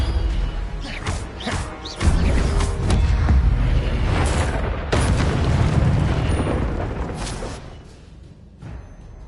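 An Incendio fire spell in Hogwarts Legacy combat, loud crashing booms and a sustained fiery roar that swells and then fades toward the end.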